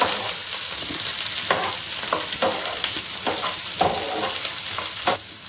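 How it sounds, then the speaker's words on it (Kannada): Onions frying in a pan for chana masala, a steady close sizzle with repeated stirring scrapes throughout and no talking. "ಈಗ ಈರುಳ್ಳಿ ಹಾಕೊಳ್ತಾ ಇದ್ದೀನಿ. ಹಾಕ್ಕೊಂಡು ಚೆನ್ನಾಗಿ ಫ್ರೈ ಮಾಡ್ಕೊಳ್ಳೋಣ."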